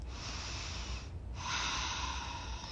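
Slow, deep breaths during a trauma release exercise, a long breathy exhale followed by a brief pause, then another breath, close and soft with no talking.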